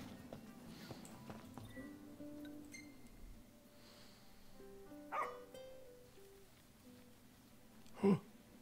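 A dog in the video game Final Fantasy XV gives two short, sharp barks, one in the middle and a louder one near the end, over a quiet game soundscape with soft music.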